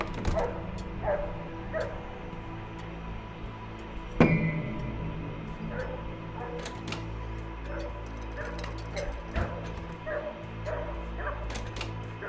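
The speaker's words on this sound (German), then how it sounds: "Und dieser blöde Hund soll endlich mal aufhören zu bellen." A dog in the video game The Nightfall barks again and again at a distance, sharp yips scattered across the span over a low ambient hum, with a louder thud near the middle.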